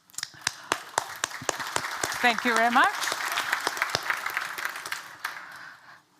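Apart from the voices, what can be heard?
conference audience applause for a speaker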